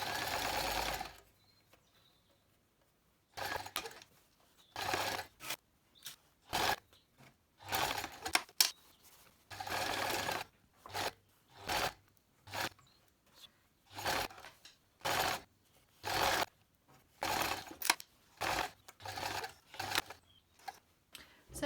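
A sewing machine stitches cotton face mask fabric in repeated bursts, running a second or so at a time with brief pauses between, its whirring close and clear against a quiet room.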